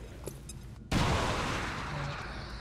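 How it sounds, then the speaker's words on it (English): A grenade detonates in the XCOM 2 game: faint ambient sounds and clicks give way to a sudden loud blast just under a second in, followed by a roaring debris rumble that slowly fades. "Here we go, opening with a grenade."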